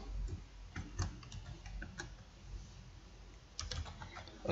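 A password being typed on a computer keyboard: a sparse run of light, quick key clicks at an uneven pace, soft and close, with no talking.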